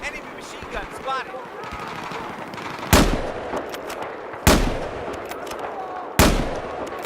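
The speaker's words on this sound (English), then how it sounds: "Enemy machine gun spotted." Bursts of machine gun fire in Battlefield 4 combat: three loud, sharp volleys spaced a second or so apart over a steady battlefield din, with radio-style game voices calling out in between.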